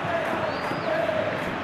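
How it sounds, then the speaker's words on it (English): Steady roar of a stadium crowd in a PS4 football game, Real Madrid versus Lazio in the Champions League, a broad wash of noise with a commentator's voice faintly over it. "Crowd appreciates good football all round there."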